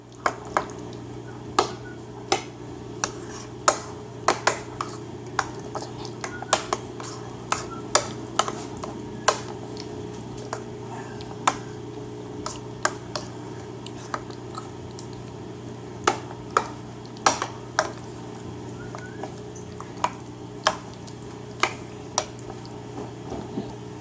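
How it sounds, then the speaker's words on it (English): A spoon works through yogurt ingredients in a bowl, making soft wet squishes and irregular clinks against the side that repeat at an uneven pace, fairly close, with no voices. "And then you mix it in, mix it all together, mix it all together now."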